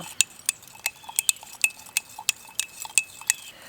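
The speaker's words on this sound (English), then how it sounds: "I'm going to give that a stir." Spoon stirring a green-tinted spearmint aloe soap mixture in a container, giving a series of light, close clinks and taps at an irregular, quick rhythm, with no talking.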